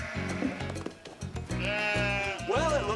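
Goats and sheep bleat in a run of loud, close calls, several wavering cries overlapping one another over a few seconds.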